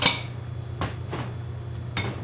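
Plates and dishes clatter on a kitchen counter while egg wash is prepared for coating pork chops, with a ceramic clink at the start and a few sharp knocks spaced across a quiet background.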